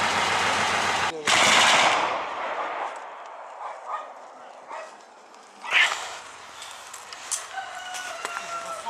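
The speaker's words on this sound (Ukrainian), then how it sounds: "Зараз ми чуємо на центральній частині селища де перестрілка зі стрілецької зброї, а також стукокаліберних кулеметів" Scattered small-arms and heavy machine gun fire cracks and bursts echo at a distance in a village centre near Shyrokyne, Ukraine, with a loud burst early on and sporadic shots afterward over a noisy outdoor background.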